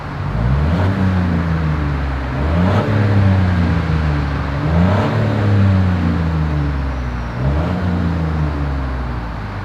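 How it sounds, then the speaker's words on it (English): A 2021 Chevrolet Trailblazer's exhaust drones loud and close as the engine revs up and down in several rising and falling sweeps, with no talk over it. "As always, here is that exhaust clip."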